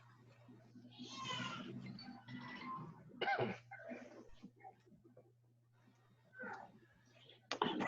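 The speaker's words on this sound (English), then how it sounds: "please excuse me if you guys hear a few coughs" Several dry coughs and throat-clearing bursts come close together, some harsh and sharp, separated by short quiet gaps over a low steady hum.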